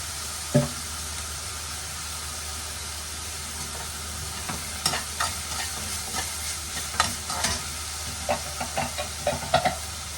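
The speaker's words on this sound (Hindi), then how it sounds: "तो आपको अच्छे से डाल करके प्याज को भून लेना।" Onions fry and sizzle in a kadhai with oil, a continuous hiss broken by repeated scraping and stirring knocks of a utensil against the pan, close and fairly loud.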